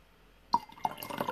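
Tea is poured as a refill into a cup, starting with a bright splashy burst and settling into a short, close trickle of liquid.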